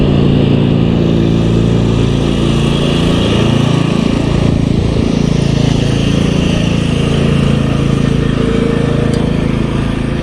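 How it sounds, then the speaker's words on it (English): A riding lawn mower drives up a road after dark, its engine droning steadily and fairly loud throughout, with a slight rise and shift in pitch midway as it passes. "here comes another guy right up the road, and it's after dark on his riding mower"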